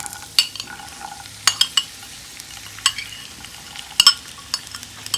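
Dry fruits frying in ghee in a frying pan for sheer khurma, with soft sizzling and sharp clicks of a spoon stirring against the pan, several distinct scrapes spread across the stretch.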